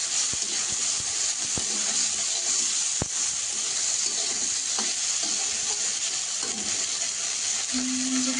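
Crab coated in salt and turmeric fries with chopped onion and garlic in a pan, giving a steady close sizzle with occasional stirring clicks and scrapes throughout.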